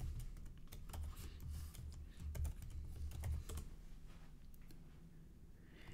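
Password being typed on a Mac keyboard, a quick run of soft, close key clicks over a low room hum that grows sparser toward the end.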